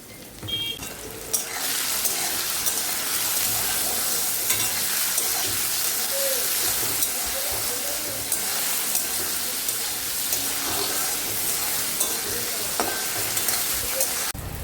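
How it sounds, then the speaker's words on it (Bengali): Hybrid tomatoes fry in a pan with salt and pepper, giving a steady, dense sizzle with occasional stirring scrapes throughout and no talking. "হাইব্রিডের টমেটো একসাথে দিয়ে দিলাম এবার এটাকে ভাজবো একটুখানি লবণ দিয়ে আর গোলমরিচ দেবো"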